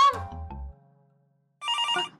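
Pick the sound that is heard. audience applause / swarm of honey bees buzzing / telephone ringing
telephone ringing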